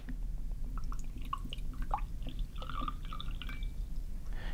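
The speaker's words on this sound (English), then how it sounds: "Place the first solution in the first glass." A liquid solution is poured into a glass, with soft trickling and dripping splashes over a steady low background hum, faint and close.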